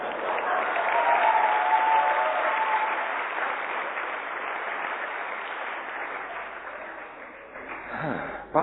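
A church congregation applauds together, a steady sustained clapping that swells early and slowly tapers over several seconds, filling the room without talk above it.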